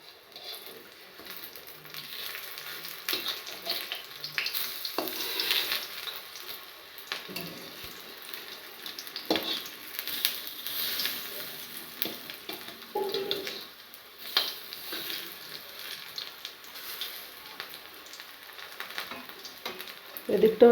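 Raw potato fritters fry in hot oil, four at a time after being flipped, giving a steady crackling sizzle with occasional louder pops and faint utensil touches, close and alone without talk.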